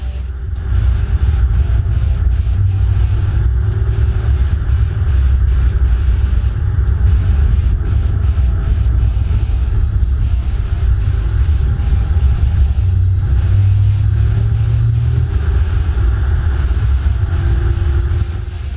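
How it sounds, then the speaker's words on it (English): A 2014 BMW M6 Gran Coupe on the move, its engine producing a deep, continuous induction rumble with rising and falling drone as it drives, loud and close throughout, steady road roar beneath. "you become one with those deep induction noises"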